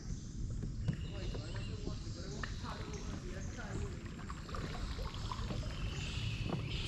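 A quiet mangrove in Costa Rica heard from a kayak: a soft, steady outdoor hush with light water and hull sounds and scattered small clicks and knocks, faint throughout.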